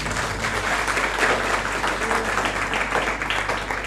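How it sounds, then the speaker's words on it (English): A conference audience applauds a contributor to the Kashmir cause with steady, moderately loud clapping that fills the hall evenly from start to finish, over a low hum. "I would like that you should once again clap for his contribution."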